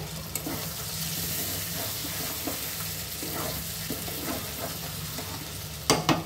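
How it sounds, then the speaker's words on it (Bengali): Masala for shahi mutton korma sautéing in a pan, a continuous close sizzle with scattered stirring clicks and a sharper clatter near the end. "আরও 5 মিনিটের মতো কষিয়ে নেব।"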